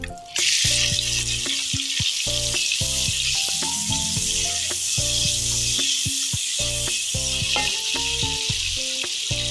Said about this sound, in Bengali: ভালো করে ভাজা ভাজা মতো করে নেবো।